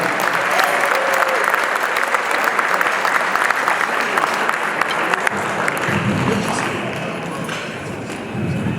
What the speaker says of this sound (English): Let's give another round of applause to our dynamic mayor, Brandon Johnson.